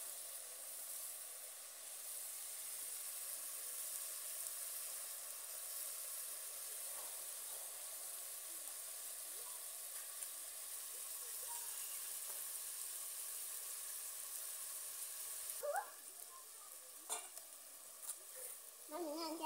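Curry with pepper steams and sizzles in a pan on a village cooking fire, a steady soft hiss with faint clinks near the end.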